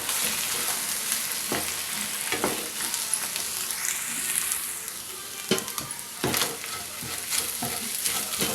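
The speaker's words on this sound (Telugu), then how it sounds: "దీన్ని ఇలా వేయించుకుందాం." Egg rice sizzling in a hot pan while being stirred, a steady bright frying hiss with periodic scraping strokes of the spoon, close and continuous with no talking.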